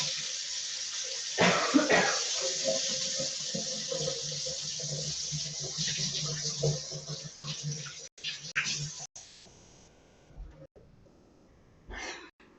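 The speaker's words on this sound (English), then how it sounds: "my hands are sticky, so I'm just going to wash them again" Tap water runs into a sink as sticky hands are washed under it, with splashing and rubbing close by, then the flow breaks off into short bursts before stopping near the end.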